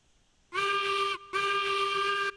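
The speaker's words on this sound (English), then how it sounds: "We have a confident whistle." Two long, loud blasts from a steam locomotive's whistle in the Railroads Online game, each about a second or less, with a short gap between them and no one talking over them.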